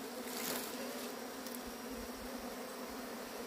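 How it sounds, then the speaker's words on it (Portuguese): Honeybees buzzing steadily at the entrance of a hive as they gather and climb in a line, a close, continuous drone holding at one level from start to finish. "você vê que as abelhas já juntaram aqui já, ó, fazendo sim, um caminho? Elas estão subindo."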